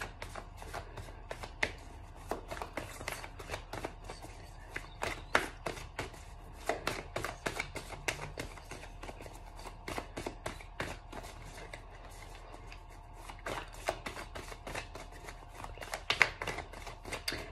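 Tarot cards being shuffled by hand, a long run of quiet, quick riffling taps and flicks repeating in uneven bursts, close and soft, with no talking.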